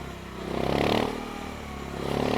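A motorcycle engine held in a straight-line wheelie, throttle and rear brake balanced, gives a steady mid-range drone that swells, eases and rises again, loud and close with wind noise.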